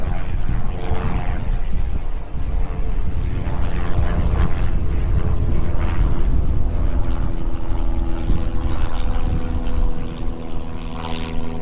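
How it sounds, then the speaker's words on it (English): A Piper propeller airplane lifts off runway 27 at East Midlands Airport, its engine a loud, steady droning roar that holds throughout, close by and without speech. "that Piper just lifting off from runway 27"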